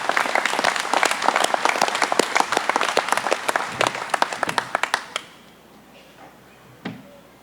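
An audience at a cooperative's annual meeting applauds a recognized group, sharp individual claps that build into steady applause, then stop around five seconds, leaving quiet room tone with a single late knock.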